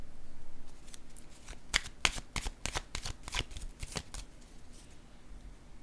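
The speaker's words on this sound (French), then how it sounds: "Je vais piger une carte sur le paradis." Playing cards are drawn and handled during a tabletop game, giving a cluster of crisp close snaps and slides in quick irregular succession, with softer rustling before and after and no talk.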